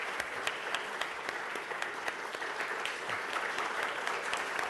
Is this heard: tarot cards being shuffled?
no